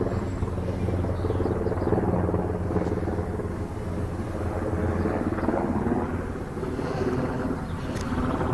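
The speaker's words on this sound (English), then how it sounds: "That helicopter's been around following me about." Low, steady rotor rumble of a helicopter droning overhead, continuous throughout with no voices.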